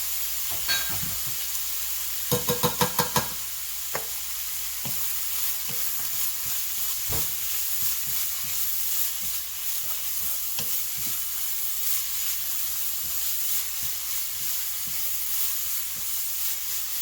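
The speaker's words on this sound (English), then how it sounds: "You want to saute this until the fragrance all comes out, the fragrance, the aroma of the herbs, the garlic, and the shallot." Herbs, garlic and shallot saute and stir in a pan for a spicy Lao pepper paste, a steady soft sizzle running throughout with a few quick clattering stirs near the start and occasional light taps, no talking.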